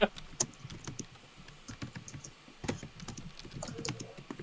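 Fast, uneven clatter of keys on a computer keyboard, close and fairly quiet, with bursts and short pauses.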